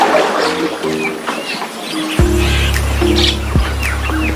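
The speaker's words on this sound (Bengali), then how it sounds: "আর পাখিগুলো ওদের নিজ নিজ বাসার ভিতরে বারবার ঢোকার চেষ্টা ঢুকতেছে অনেকগুলা।" Birds squawk and chirp repeatedly around their nests outdoors, short harsh calls near and far, with a steady low drone rising underneath partway through.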